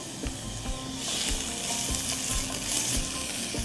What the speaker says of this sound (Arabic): نحط شوية من الزيت، هنحط حبة من البصل عادي مفروم بالشكل هذا،